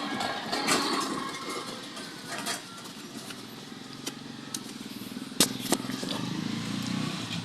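A Honda TMX motorcycle engine runs with an unusual noise, a low steady hum under a rough, crackly rattle, with a few sharp ticks and clacks standing out near the end.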